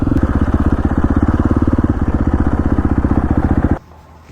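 Dirt bikes ride through a small town, their engines giving a loud, steady, rapid pulsing putter up close that cuts off abruptly near the end, leaving only quiet ambience.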